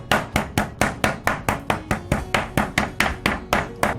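Chicken cutlets pounded with the flat side of a heavy meat tenderizer, about sixteen loud, close, evenly spaced thuds in a steady rhythm.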